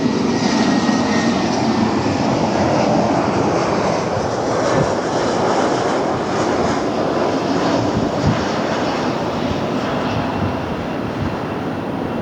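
Jet airliner departing LAX for Minneapolis–St. Paul, a steady broadband engine roar with rushing noise, loud and sustained throughout, no voices.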